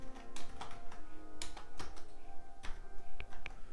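Keys pressed one after another on a computer keyboard, close and distinct clicks in an uneven rhythm with a few brighter taps near the end.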